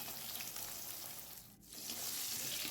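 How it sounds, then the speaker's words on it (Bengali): Ash gourd pieces fry in hot oil, a steady close sizzle that dips briefly midway before picking back up, with no voices. "যতগুলো আমি চাল কুমড়ো কেটেছি সবগুলো একসাথে ভাজা হবে না, অর্ধেকটা আগে ভেজে নিচ্ছি"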